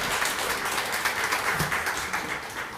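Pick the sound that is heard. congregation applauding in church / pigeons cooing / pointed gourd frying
congregation applauding in church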